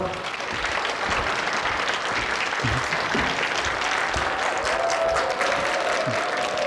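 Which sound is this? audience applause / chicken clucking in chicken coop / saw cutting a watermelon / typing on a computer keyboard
audience applause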